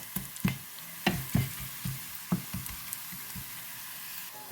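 Ingredients for a carrot and bean milk curry are sautéed in oil until golden, with a soft, steady sizzle broken by repeated stirring scrapes and squishes close by.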